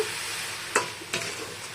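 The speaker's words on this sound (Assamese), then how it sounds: "একেবাৰে পানীটো শুকোৱালৈকে ভাজি ল'ব লাগিব।" Constant hiss of coconut frying in a pan, with two brief scrapes of a spoon stirring, no talking.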